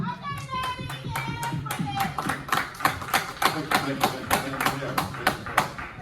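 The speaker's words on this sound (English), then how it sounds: "Hey, can y'all clap for Jerry, please?" A small talk show audience claps for a guest in a steady, evenly spaced rhythm of sharp hand claps that grows slightly louder and more pronounced as it continues, with faint voices murmuring underneath at the start.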